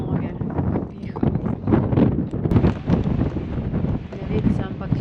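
Strong wind gusting over a mountain trail on Begunjščica, a steady roaring buffet with loud microphone rumble throughout, while a person talks underneath.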